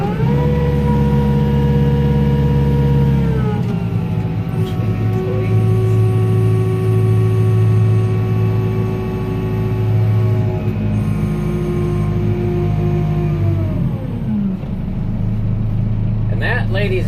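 A John Deere-style M6 tractor engine held at a slightly raised throttle while its front loader cycles, a steady close droning hum with a pitch that dips and recovers as the hydraulics work, with talk over it.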